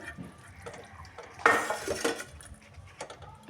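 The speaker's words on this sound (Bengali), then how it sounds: "একটু হালকা করে একটু জল দিয়ে দিলাম" A little water is poured into a hot cooking pan while a home dish is made, giving a brief splashing, hissing burst of about half a second in the middle of faint kitchen clatter.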